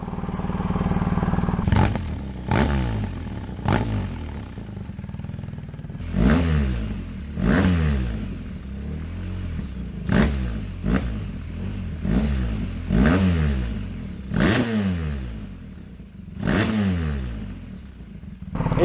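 A BMW R1250R motorcycle fitted with an SP Engineering Diabolus aftermarket exhaust is revved in a series of sharp blips, each rising and falling quickly, loud and close with a rough clattery edge and no talk.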